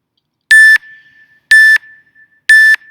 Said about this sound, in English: Ignore the first 3 beeps you're going to hear.